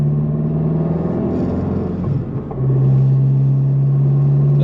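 A car fitted with a Baun Performance exhaust drones loudly from inside the cabin, a steady low rumble that dips briefly at a gear change, then returns heavier and louder as it accelerates.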